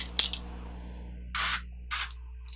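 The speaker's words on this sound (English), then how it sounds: "The bottle definitely sounds more like a sunscreen type of sprayer" A makeup setting spray bottle with a sunscreen-style sprayer spritzes onto a face, two distinct hissing bursts about half a second apart, preceded by faint clicks from the bottle.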